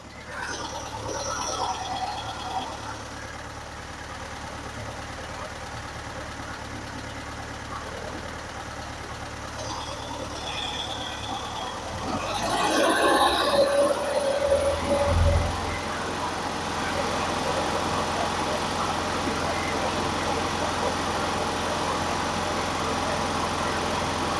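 1963 VW Bus air-cooled engine idling with a steady mid-pitched chug, then briefly revved louder for a few seconds before returning to an even idle.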